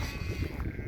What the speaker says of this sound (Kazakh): Мына жақта қойлар.